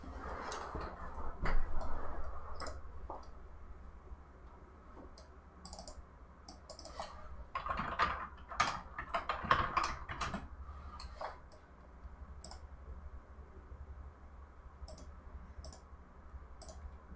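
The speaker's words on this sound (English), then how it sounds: "I moved my microphone away from my keyboard so it's not so goddamn loud" Light clicking and tapping on a computer keyboard with the microphone moved away from it, faint and scattered in irregular bursts against a quiet room hum.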